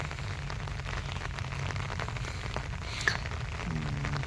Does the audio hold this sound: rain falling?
yes